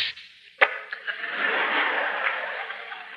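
A voice imitates an exclamation point in spoken phonetic punctuation for radio: a sharp click or pop followed by a long breathy hiss, close and alone.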